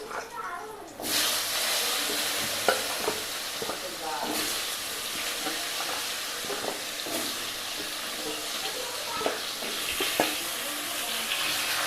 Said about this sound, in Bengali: এবার ওই তেলের মধ্যে লম্বা লম্বা আলু কেটে ওই তেলের মধ্যে ভেজে নেব।